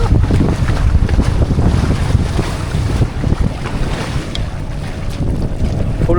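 A sailboat off Baga Beach in Goa moves through the sea under wind, with continuous wind buffeting and splashing waves around the hull, fairly loud and steady with no voices.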